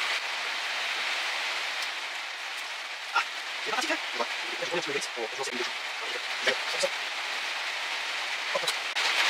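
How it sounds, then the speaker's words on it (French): Steady rain falling outdoors forms a constant broadband hiss throughout, with people talking intermittently over it in the middle and end. "vous allez avoir le bruit de la pluie en plus de nos voix"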